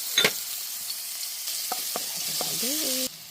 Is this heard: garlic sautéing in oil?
yes